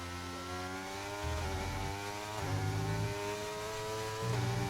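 A McLaren race car engine during a qualifying session in Spain drones steadily at high revs, with pitch rising and dipping over several gear changes, moderately loud and without talk.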